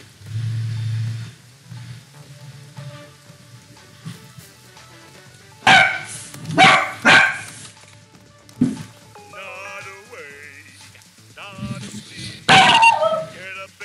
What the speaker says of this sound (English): Bailey, why you barking?